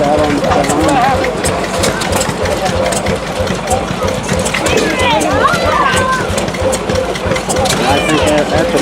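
An antique farm engine runs steadily at an engine and tractor show in a park, a rhythmic mid-pitched chugging close by, with people talking over it throughout.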